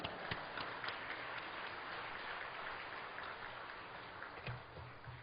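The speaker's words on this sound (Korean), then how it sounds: "큰 박수로 맞이하겠습니다" Congregation applause welcoming the pastor at a Full Gospel church worship service, a soft, continuous spatter of many hands clapping at a distance, even and sustained with no voices standing out.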